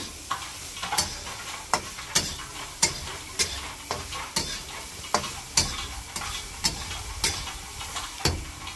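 Soya chunks frying in oil for soya chilli, a continuous sizzle punctuated by regular spatula scrapes and taps roughly every half second, near and alone.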